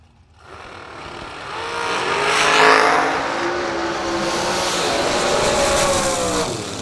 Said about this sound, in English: Garrett Griffith has got the dragster out today